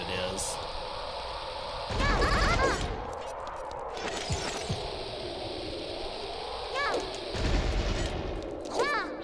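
Bombs explode in Ocarina of Time, played as a randomizer: two loud, booming blasts a few seconds apart, each a short burst rising over a steady bed of game music and effects.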